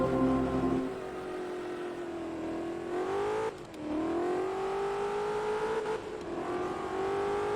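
Shelby Cobra V8 engine roaring at a race start in Forza Motorsport 2, a steady loud drone climbing through the gears, with brief dips at each shift before pulling up again, engine alone without talk.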